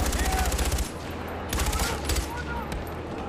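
Rapid automatic gunfire in the video game Far Cry 4 rattles in sustained bursts with short pauses, fairly loud against a faint background.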